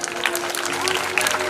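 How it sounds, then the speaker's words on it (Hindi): An indoor crowd at a coaching institute's foundation-day tribute applauds for a teacher, giving a dense, sustained burst of clapping from many people, with a voice faintly audible beneath it. "एक बार तालियां मिल सकती"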